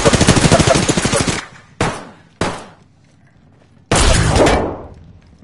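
Automatic gunfire in the battle royale shooter Apex Legends: a long rapid burst, then two short sharp bursts, then another sustained loud volley, close and dominant with no talk.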